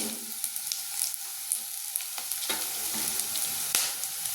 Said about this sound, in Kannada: ಫ್ರೈ ಆಗ್ತಾಯಿದೆ. ಈಗ ನಾನು ಹಸಿಮೆಣಸಿಕಾಯಿ ಚಳಗನ ಹಾಕ್ತಾಯಿದ್ದೀನಿ.